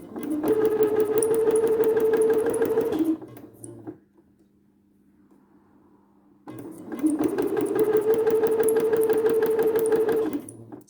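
A sewing machine stitches along a fabric seam in two steady, loud bursts of fast rhythmic whirring and clatter, separated by a few seconds of near silence with only a faint hum while it pauses.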